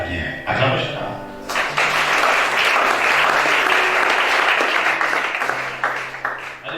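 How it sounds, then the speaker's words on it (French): A church congregation bursts into loud, sustained applause, a dense wash of clapping rising after a voice and music, close and full, with cheering voices mixed in. "Acclamez chacun."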